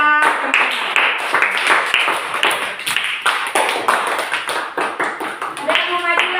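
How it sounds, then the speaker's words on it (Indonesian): Classroom students clapping in a ragged, uneven burst of claps lasting several seconds, close and fairly loud, with a teacher's voice speaking over the end. "Sekali lagi beri tepuk tangan kepada"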